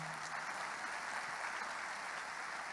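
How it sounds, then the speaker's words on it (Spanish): Applause from a church congregation, a steady, faint patter of many hands clapping heard from a distance, with no voices. "Dale un fuerte aplauso al Señor."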